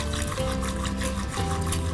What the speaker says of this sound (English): give it a quick whisk again